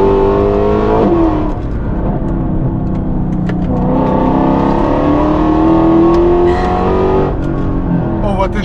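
A Mercedes-AMG circuit-version track car accelerating hard from inside, its engine note climbing through gear changes with a brief dip between shifts, loud and close throughout.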